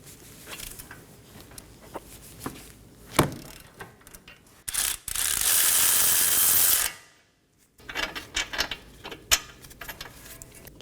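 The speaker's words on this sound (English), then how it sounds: "I'm going to remove the two bracket bolts, which are 22mm." A ratchet works loose the 22mm brake caliper bracket bolts on a 2015-2023 Nissan Maxima, quiet clicks and creaks with a sharp crack, a burst of loud rushing noise, then a pause before more scattered ratcheting.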